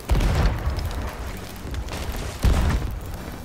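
Cannons fire in the pirate video game Sea of Thieves, two heavy booms about two seconds apart, each a deep blast trailing into rumbling ocean and ship ambience.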